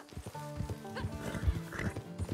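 A horse ridden in Red Dead Redemption 2 clip-clops at a steady pace, its hooves thudding close by while it snorts and whinnies, over quiet game music.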